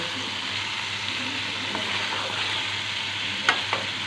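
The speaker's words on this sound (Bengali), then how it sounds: "মাছগুলো দিয়ে আমি আস্তে আস্তে কিছুটা সময় নেড়ে চেড়ে পানি অ্যাড করে দেব" Tengra fish, fried earlier, are gently stirred in a pan, giving a constant close hiss of sizzling oil with faint scraping and two small metallic taps near the end.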